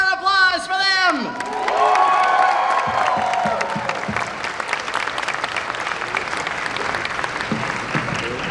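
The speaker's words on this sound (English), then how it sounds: "Another round of applause for them." A fan convention audience breaks into sustained applause with scattered cheers and whoops, a dense wash of many hands filling the hall after a voice trails off at the start.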